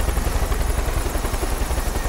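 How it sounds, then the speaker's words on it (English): Helicopter in the video game Far Cry 5, a loud, steady rotor chop with a fast regular beat and engine drone throughout. "Your helicopter's still fucking going, by the way."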